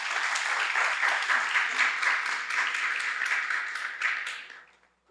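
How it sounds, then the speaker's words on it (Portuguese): Church congregation applauding after a worship announcement, sustained dense clapping at full strength that fades out near the end. "Vamos aplaudir o Senhor Jesus?"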